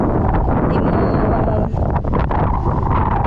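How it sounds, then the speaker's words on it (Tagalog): Strong wind buffets the microphone at a beach lined with windmills, a loud continuous roaring rumble with gusty surges and no distinct voices. "pero ang sarap ng hangin, sobrang sarap."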